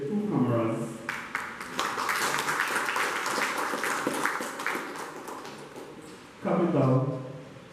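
A live audience claps steadily at a municipal gathering, applauding the donors of security cameras; dense, sustained applause with a voice speaking briefly before and after it.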